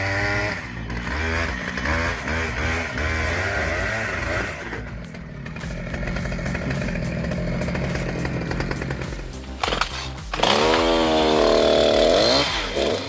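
A big chainsaw cuts through tree wood in a continuous, loud, close engine snarl that bogs and revs, rising sharply toward the end.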